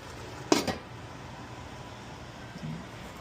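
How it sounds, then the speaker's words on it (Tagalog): A metal lid set down onto a cooking pot of chicken tinola gives a single brief clatter with a short rattle, then low kitchen hum and fan noise continue. "Tatakpan natin siya ulit."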